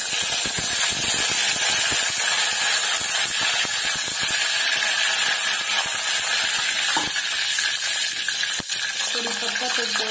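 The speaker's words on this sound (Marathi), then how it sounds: "जिरे तडतडल्याच्या नंतर कढीपत्ता" Cumin seeds and curry leaves crackle and sizzle in hot oil with mustard seeds, tempering for dal baati. The frying hiss is close and continuous, with sharp pops and a few stirring clatters.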